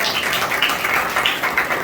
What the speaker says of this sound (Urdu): بوا جی کے لیے تالیاں بجائیں